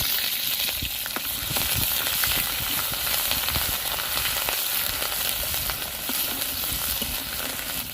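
Onion paste frying in hot mustard oil with five-spice seeds and green chilies gives a loud, steady sizzle close by, with scattered stirring clicks throughout and no talking.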